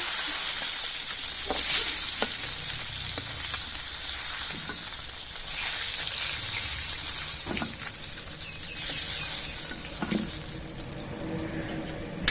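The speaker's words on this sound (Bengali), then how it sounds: "আর এই মাছগুলো খুব ভালো করে ভাজা হয়ে গেছে, তুলে নেব।" Puti fish frying in hot oil, a steady sizzling hiss with occasional faint clinks and stirring sounds throughout, close and continuous with no talk.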